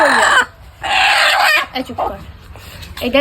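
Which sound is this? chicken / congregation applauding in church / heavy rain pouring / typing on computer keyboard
chicken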